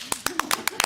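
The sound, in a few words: brief clapping at board meeting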